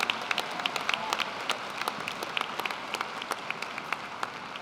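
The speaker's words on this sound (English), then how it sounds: "let's give our graduates a round of applause for their engagement" An audience at a December fall university commencement ceremony applauds the graduates with sustained, dense clapping from a large crowd, steady and fairly loud, with no talking over it.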